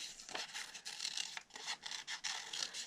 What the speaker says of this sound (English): I'm going to cut them out at the same time. And my scissors.